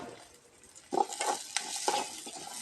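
Dried red chilies and garlic fry in a pan for a Tamil chutney. A soft, steady sizzle is broken by several short, louder scraping stirs, with no one talking.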